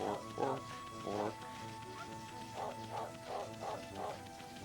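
Amaterasu, the white wolf of Okami, gives a string of short, yappy in-game barks, two early and a quick run of five later, fairly faint beneath background game sound.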